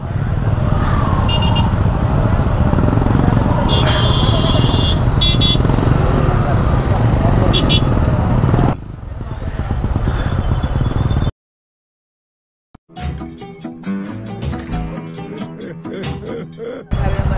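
A Honda CB 150X motorcycle rides along a road with engine and traffic noise, passing vehicles and horn toots, then a sudden cut to silence and quieter road sounds, with people talking over much of it.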